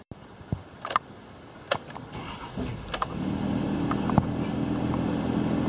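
A 2010 GMC Savana G3500 van's engine is switched off and cranked back on, with a few clicks and thumps giving way to a steady low idle rumble that continues to the end.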